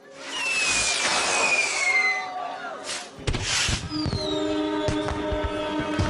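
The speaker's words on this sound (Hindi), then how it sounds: "वार्षिक लालटेन महोत्सव आतिशबाजी का शो आधिकारिक तौर पर शुरू कर दिया जाए" Whistling rockets glide through the air, followed by sharp bangs and crackling bursts of a lantern festival fireworks display, which continue steadily.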